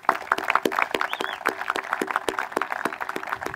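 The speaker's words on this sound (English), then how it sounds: "Can we have an applause for the board?" A school district audience claps for its board members at a high school groundbreaking celebration, with a short burst of lively, fairly close clapping and a few sharp individual claps standing out.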